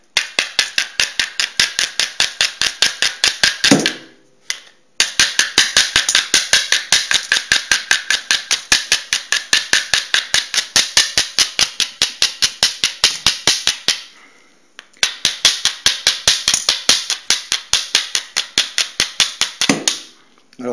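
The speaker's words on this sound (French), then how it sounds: "il faut frapper relativement vite et assez fort" Flint struck hard and fast against marcassite to throw sparks: three long runs of sharp, rapid, evenly spaced clicking strikes, loud and close, separated by two brief pauses.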